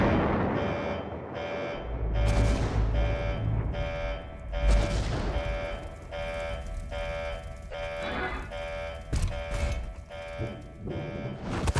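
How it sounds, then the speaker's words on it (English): A generator explosion alarm in the Five Nights at Freddy's game blares as loud, repeating buzzer pulses in a steady rhythm, punctuated by deep booms and crashes early on. "Generator explosion in 6, 5, 4, 3,"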